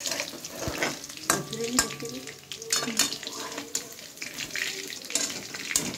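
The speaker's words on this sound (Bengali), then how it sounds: "আমি এবার গ্যাসটা একটু জোরে দিয়ে লাল লাল করে ভেজে নেব" Chicken pakora frying over a high gas flame gives a steady crackle in hot oil, broken by occasional clatters and scrapes from handling, with no one speaking.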